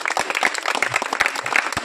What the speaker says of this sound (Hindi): एक बार इनके लिए जोरदार ताली बजाइए सब लोग।